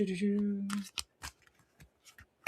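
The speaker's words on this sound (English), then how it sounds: "I'm gonna just shuffle it one more time" A deck of playing cards is shuffled by hand, giving a few quick riffling and snapping bursts after a brief moment of voice, close and fairly quiet.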